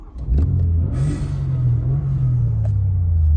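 A Toyota GR Yaris engine cranks and fires with a sharp catch, then settles into a strong, steady idle rumble with a brief rise in revs. The car is heard close up with nobody talking.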